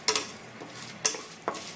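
Whole cumin and spices frying in a pan, with a few soft crackles and light stirring scrapes against low, steady sizzle.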